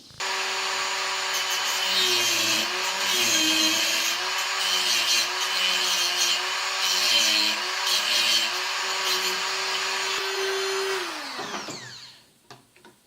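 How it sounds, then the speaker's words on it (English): A high-pitched Dremel rotary tool whines steadily while cutting, its pitch dipping slightly under load, then winds down and stops near the end. "I'm just going to cut these out with the Dremel tool"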